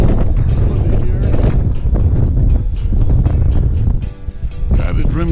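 Strong hurricane-force wind roars at the Meteor Crater Visitor Center parking lot, buffeting the microphone in a loud continuous rumble, with someone talking underneath.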